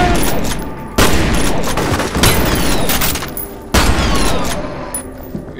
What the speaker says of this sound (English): Now you see why the shotgun is a lot of fun.